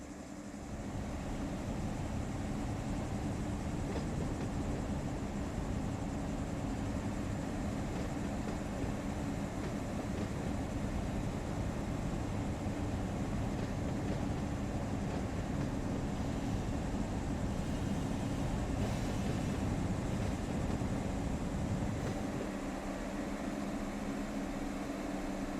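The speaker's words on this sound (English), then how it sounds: "I can back the entire train into the Heck Cellars Winery tracks and couple to" A long Union Pacific freight train backs slowly along a branch line toward winery tracks in Run 8 Train Simulator, giving a steady low rumble and rolling drone that holds evenly for the whole stretch.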